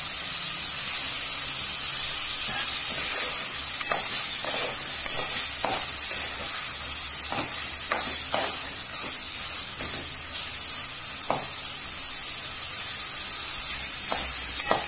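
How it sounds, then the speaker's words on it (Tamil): Egg gravy simmers and sizzles in a pan as eggs are added, a loud steady hiss of bubbling oil and sauce with occasional sharper pops and stirring scrapes, no talk. "இப்ப நம்ம இதுல முட்டையை சேர்த்தலாம்."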